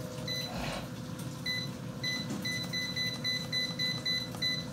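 Electronic control-panel beeps from an Air Fryer XL being set while cooking bacon: a series of short, evenly spaced high beeps over a steady low hum, with no talking.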